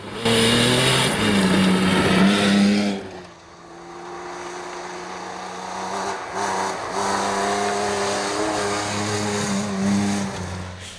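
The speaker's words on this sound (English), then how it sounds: "Despite a blown exhaust in the BMW, Ernie Lee and Patricia Milligan would manag" A BMW rally car with a blown exhaust roars loudly and steadily at a rally, revving with a harsh, raspy exhaust note, briefly dropping then climbing again as it drives past.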